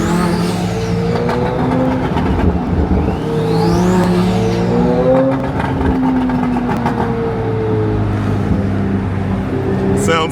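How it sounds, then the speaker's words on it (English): A twin-turbo Lamborghini and a naturally aspirated C8 Z06 Corvette cruise together on a highway, engines droning loudly and continuously with rising and falling revs and gear changes, close by throughout the clip. "Twin turbo Lamborghini. And then my NA C8 Z06. Both sounds are amazing."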